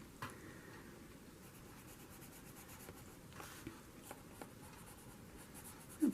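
A pencil sketches on journal paper in soft, close scratchy strokes, quiet and continuous with a few sharper taps of the point.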